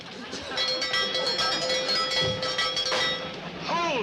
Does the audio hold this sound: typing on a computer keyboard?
no